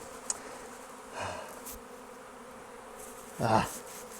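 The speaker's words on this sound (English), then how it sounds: "Several thousand, well, at least several thousand bees" A steady drone from a swarm of several thousand bees hums throughout, with a couple of louder buzzing swells as bees pass close.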